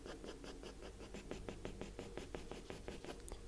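A hard pencil shades on paper in quick, rhythmic scratching strokes, close and faint, repeating evenly for a few seconds.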